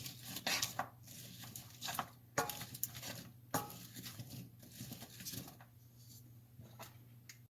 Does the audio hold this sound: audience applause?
no